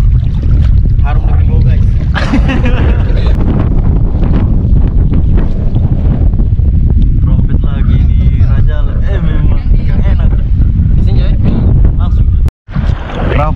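Strong wind buffets the microphone while fishing outdoors, a loud continuous roaring rumble with gusty surges, and a voice talks over it.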